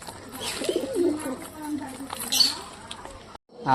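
A pair of Lakka breed pigeons come in to land, giving soft cooing and flutters with faint squeaky calls, brief and close, ending in a short silent gap before a sharp sound.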